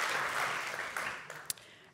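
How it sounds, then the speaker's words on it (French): Applause from a conference audience at a developer event, a broad dense wash of clapping that thins and fades toward the end, with a single sharp clap near the close. "Applaudissements."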